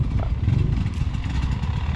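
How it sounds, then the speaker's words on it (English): A Fantic XEF 250 two-stroke enduro motorcycle putters along at low revs on a raw enduro trail, a steady rough engine drone with some clatter, fairly close and without voices. "So much easier on a little two-stroke like this, just tootling through."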